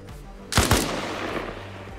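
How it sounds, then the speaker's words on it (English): Suppressed SAW machine gun fired in the video game Arma Reforger, heard as a short pair of muffled bursts that trail into a lingering, reverberant decay with no talking. "we just suppressed the saw"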